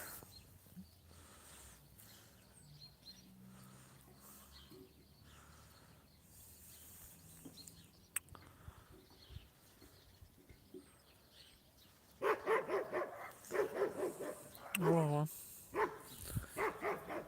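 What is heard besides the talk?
dog barking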